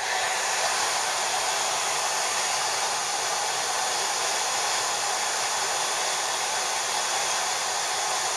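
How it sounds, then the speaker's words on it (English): A hair dryer blows steadily and loudly throughout, a constant broadband whoosh with no pauses or voices. "So we can drive the solvent off with a hairdryer and make it dry."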